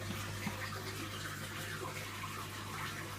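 Fluval FX6 aquarium canister filter runs with a steady, soft rush of flowing water and a low constant hum, with no other sounds.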